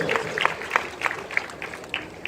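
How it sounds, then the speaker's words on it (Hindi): Audience at a Hindi-language church gathering on the second coming of Jesus Christ applauding in a loose, moderate patter of many hands, fairly near, with some voices mixed in. "इनके लिए ताली बजा दीजिए"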